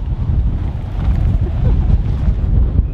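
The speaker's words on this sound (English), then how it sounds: "it is so windy here." Strong wind buffeting the microphone in Jomsom, Nepal, a loud, low rumbling roar that gusts unevenly throughout.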